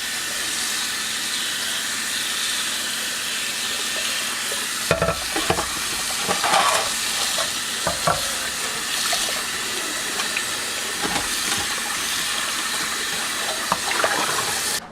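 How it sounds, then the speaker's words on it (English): A bowl emptied and rinsed under running water while cleaning animal bones: a steady hiss of flowing water with scattered clunks and splashes as the bowl is handled. "I'm just going to dump it out. And then give the bowl a good rinse."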